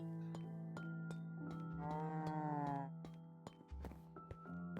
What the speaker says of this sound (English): Here are my cows.